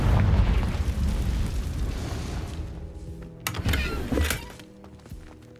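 Confringo blasting spell explosion in the Hogwarts Legacy video game: a loud rumbling blast that decays over a few seconds, followed by sharper crackling bursts and debris pops before fading.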